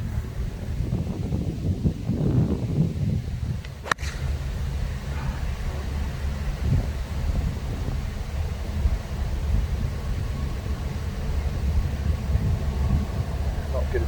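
Wind gusts buffet the microphone on a hilly parkland golf course, a loud continuous low rumble with a sharp knock early on and faint voices underneath.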